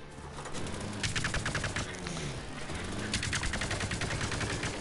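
Rapid automatic gunfire crackles in two sustained bursts during a Plants vs Zombies Garden Warfare 2 match, sharp repeated shots over a busy game soundscape.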